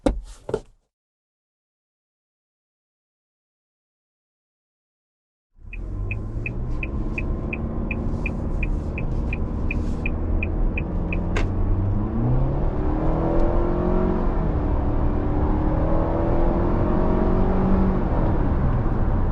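A 2023 Nissan Altima accelerates hard to 60 mph, heard from inside the car. A brief sound at the start gives way to silence, then a steady rising engine roar and road rumble carry on to the end, with no talk.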